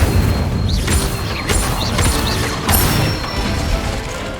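The Incendio fire spell from Hogwarts Legacy goes off in quick succession, a few whooshing bursts with crackling flame and mechanical creaks, moderately loud over a steady ambient rumble.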